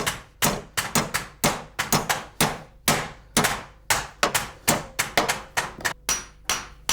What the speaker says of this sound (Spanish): el carretero los fija machacándolos con el martillo de bola en el yunque